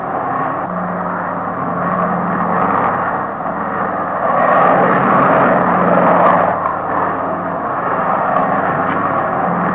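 A Douglas DC-6 propeller airliner on landing approach drones steadily overhead, a broad engine roar that swells a little midway and stays fairly close throughout.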